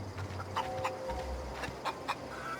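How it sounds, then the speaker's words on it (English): In The Outer Worlds video game, a chicken clucks with several short, moderately faint calls over a steady game ambience, and no one talks. "chicken."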